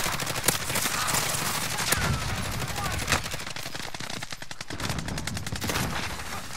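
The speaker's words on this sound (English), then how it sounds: "I'm getting shot from behind and now I'm dead." Rapid gunfire in a shooter video game, with dense bursts of automatic shots crackling through most of the stretch and a few louder single reports standing out.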